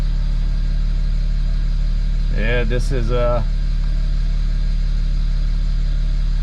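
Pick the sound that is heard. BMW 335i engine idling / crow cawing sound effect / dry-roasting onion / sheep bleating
BMW 335i engine idling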